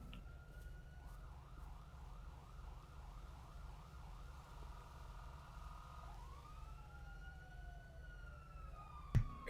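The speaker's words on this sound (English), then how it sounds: "Cut your siren." A police car siren in a video game wails in rising and falling sweeps over a low engine drone, faint and steady, shifting pitch partway through before ending with a sharp click.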